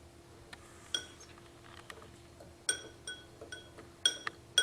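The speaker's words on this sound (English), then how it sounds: "So watch what happens when we mix the baking soda and hydrogen peroxide." Baking soda and hydrogen peroxide mixed in glassware: a few faint, sharp clinks and taps of glass scattered over about four seconds against a quiet background.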